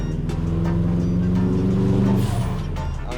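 A Subaru Impreza P1 engine rumbles loudly and close by with a low, throbbing boxer burble, swelling briefly before easing off, with a faint hiss near the end that could be the dump valve.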